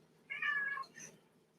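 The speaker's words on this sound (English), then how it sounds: "And the cat." An angry cat gives a short two-part meow, a rising cry followed by a brief higher yelp, close and clear in a quiet room with no talking.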